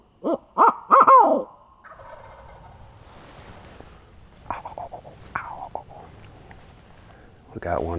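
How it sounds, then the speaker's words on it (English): A turkey hunter blows an owl hooter in the Iowa woods, giving a few loud hooting calls. A faint gobble answers from farther off, and quieter calls follow. "I'll use an owl hooter. It'll echo better these woods, and it won't be a predator."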